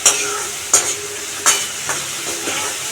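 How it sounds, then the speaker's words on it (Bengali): Dry red chillies, chopped onion and garlic paste stirred in a hot pan for chilli chicken, a loud close sizzle punctuated by three sharp spatula scrapes at regular intervals. "শুকনো লঙ্কা আর হচ্ছে রসুনের পেস্টটা দিয়ে দিলাম। একটু ভালো করে নেড়ে চেড়ে নিতে হবে।"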